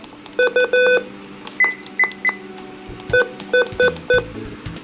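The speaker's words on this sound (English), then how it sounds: "that's pretty much the button beeps and the siren test" A series of short electronic button beeps at two pitches from a WeatherX RWB8817DT weather radio, some in quick clusters and some spaced apart, clear and close with no talking.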